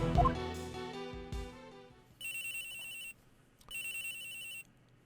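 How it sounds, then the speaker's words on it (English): An electronic phone ringtone in the video game Ace Attorney Investigations 2, two bright, bleeping rings separated by a short pause, heard alone after a fading musical chime. "Is that my phone?"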